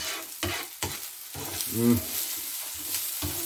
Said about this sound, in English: Little onions starting to brown up already just a little bit